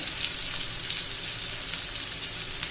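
Onion and tomato sizzle steadily in a hot pan while cooking down for a chutney, a dense, even frying hiss that stays close and continuous, with no one talking.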